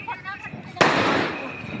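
A firecracker bursts at a New Year midnight celebration, one sharp loud bang followed by a crackling, hissing decay, after a moment of voices talking.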